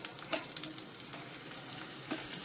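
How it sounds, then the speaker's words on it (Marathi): Green chilies splutter in hot ghee used for tempering, giving a steady crackle of small pops and sizzling, fairly close and moderately quiet. "मिरच्या उडतात त्यामुळे लांब राहायचं आपण"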